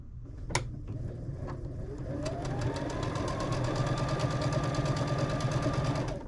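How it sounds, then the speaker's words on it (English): A sewing machine stitches a cotton quilt piece for a baby or lap quilt block with a scant quarter-inch seam. After a few starting clicks it settles into a steady, even whir that runs close and continuous to the end, with no talking. "sew my piece with a scant 1/4 inch"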